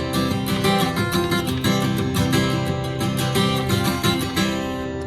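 Acoustic guitar playing a fingerpicked chord pattern for a song, a steady flow of plucked notes ringing together, close and clear with no talking.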